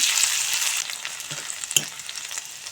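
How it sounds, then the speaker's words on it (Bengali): Onions for soybean korma sizzle steadily in hot oil, a dense continuous crackle with a few small pops and clicks of stirring. "পেঁয়াজ ভেজে নিয়েছি"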